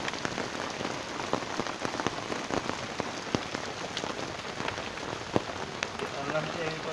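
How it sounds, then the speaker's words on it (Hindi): Steady rain patters on surfaces outdoors in Jhang, a continuous hiss with scattered sharper drops, moderately loud and even throughout, without letting up noticeably. "आहिस्ता आहिस्ता बारिश रुक रही है"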